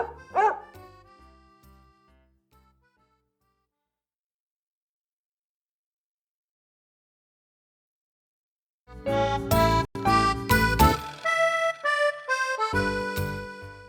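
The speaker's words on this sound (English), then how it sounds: "Josh barks when Bob goes in the wrong direction" A dog named Josh gives a short burst of barks near the start during a backward-running practice in a park, then silence, followed by loud music rather than barking.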